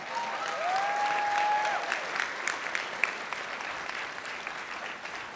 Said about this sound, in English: Can we give a round of applause for those nurses?